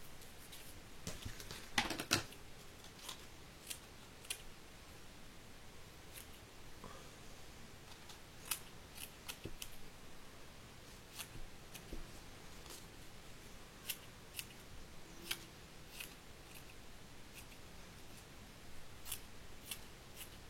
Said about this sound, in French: Je découpe pas très droit, c'est pas grave, c'est fait exprès.